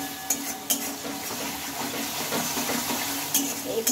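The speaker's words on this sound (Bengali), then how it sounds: "এইভাবে একটু কিছুক্ষণ হাতে টাইম নিয়ে মশলাটা একটু নেড়ে চেড়ে নেবো।" A spice mix for a vegetarian chana dal and soybean dish is stirred in a frying pan, a close, steady sizzle punctuated by a few sharp spatula scrapes and taps.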